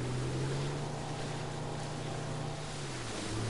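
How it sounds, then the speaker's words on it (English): A video-game motorboat engine in Far Cry 4 drones steadily at close range, a constant low hum with a slight pitch shift near the end, over a wash of water noise. "There's a boat over there."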